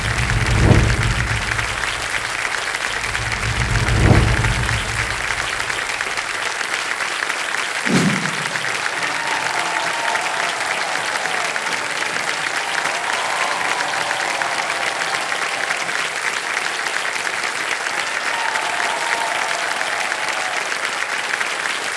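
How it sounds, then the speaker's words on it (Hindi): Studio audience on the KBC quiz show stage applauding the India women's ice hockey team: loud, sustained, dense clapping throughout, with a few deep booming musical hits early on. "तालियों के साथ अभिनंदन किया जाए women's ice hockey team India."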